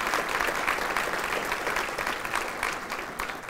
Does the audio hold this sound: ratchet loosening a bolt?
no